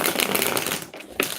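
Rapid papery riffling of a tarot deck being shuffled, close up, with a brief pause near the end before a sharp flick resumes it.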